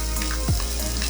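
Pancetta sizzling in a pan, rendering its own fat for carbonara; a loud, dense, continuous frying crackle fills the whole moment with no voices.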